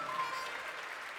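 Audience applause in a theatre at PAX West 2021, a steady wash of clapping from many hands that holds evenly for about a second, with a faint tone running through it.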